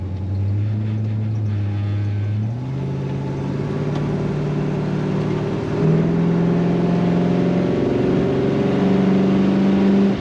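A 1972 Chevrolet Nova Sports Coupe with automatic transmission accelerates while driving, its engine droning loud and close and rising in pitch, with distinct gear shifts stepping the note down and back up, no voices.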